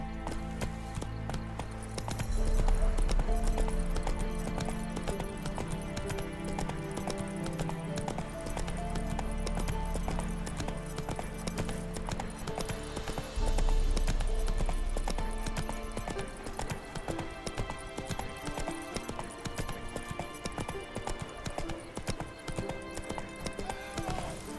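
A horse gallops in The Witcher 3: Wild Hunt, with rapid, continuous hoofbeats drumming over the ground amid game music and ambience for a long stretch, surging louder at moments.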